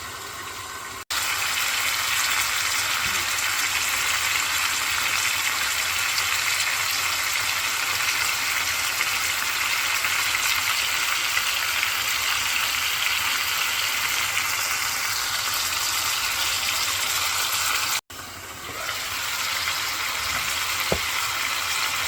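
Shawarma chicken cooking in a pan in its own juices, a steady close sizzle and bubbling hiss that runs unbroken for about seventeen seconds, then briefly cuts out and resumes slightly quieter.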